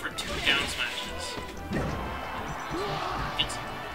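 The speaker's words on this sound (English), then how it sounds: "He definitely went for two down smashes." Repeated down smash attacks in a Super Smash Bros tournament match between Falcon players, heard as several sharp game hit impacts under crowd noise and commentators talking over them.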